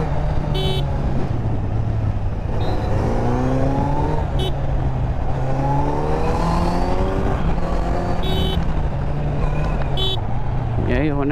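A Kawasaki Z900 inline-four motorcycle engine idles with a smooth, steady low drone while someone talks over it throughout, joined by a few short beeps and brief rising revs.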